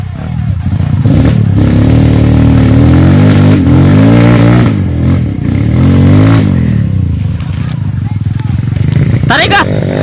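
Kawasaki KLX or Honda CRF dirt bike engine revving hard at full throttle on a challenging trail, a loud close rising-and-falling drone that dips briefly midway, with a voice heard under the engine.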